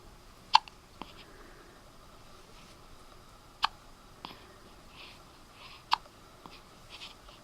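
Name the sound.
hiccups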